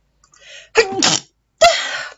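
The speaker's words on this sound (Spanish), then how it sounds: "estoy súper alérgica, así es que voy a estar estornudando constantemente" Two sharp sneezes from an allergic woman, close and loud, the first preceded by a short inhaled build-up and followed by a brief pause before the second.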